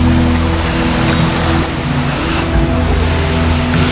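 Water pours over Kambal Falls in a steady, loud rushing roar heard from above the falls, with a low rumble underneath and no talking.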